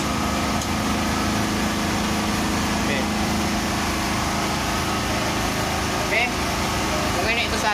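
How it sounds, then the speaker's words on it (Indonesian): A home generator set runs steadily during a power outage, a constant engine drone with a low hum holding at the same level throughout, with a few faint clicks and rustles on top. "Saya menggunakan listrik genset ini."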